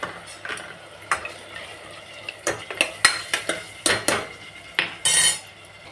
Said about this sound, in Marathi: मटण टाकलं, त्याच्यात पिवळं वाटण, त्याच्यात हळद, चवीनुसार मीठ हे हलवून घेऊ.